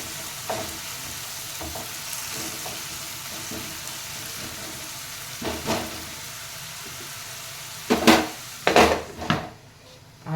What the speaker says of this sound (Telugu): కొంచెం ఉల్లిపాయలు వేగినాక అప్పుడు మటన్ వేసుకున్నాము